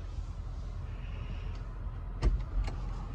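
A panoramic roof on a 2017 Hyundai Santa Fe Ultimate slides open with a low, steady motor whir inside the cabin, ending in a couple of short soft clunks near the close.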